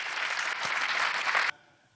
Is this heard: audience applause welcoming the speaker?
yes